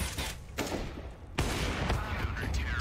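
Gunfire in a Counter-Strike match on the Overpass map, heard as a rapid series of loud, close shots and bursts running through the whole clip, with a commentator talking over it.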